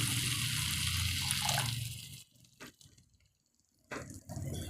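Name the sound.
water poured into a cooking pot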